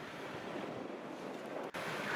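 Strong wind at a demolition site where a large store is being torn down and water is being blown onto the building: a continuous roaring gust buffets the microphone with a brief dropout near the end.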